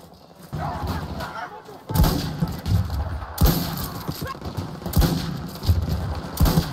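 Sniper and rifle fire in the shooter game Battlefield 2042, sharp loud cracks every second or so over a steady battlefield rumble, with someone talking throughout.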